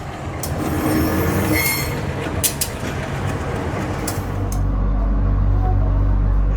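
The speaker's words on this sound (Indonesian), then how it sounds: "Tuh ada kereta lagi." A train rolls past close by with a loud steady rumble, clattering wheels and sharp metallic squeals, the heavy low roar swelling toward the end.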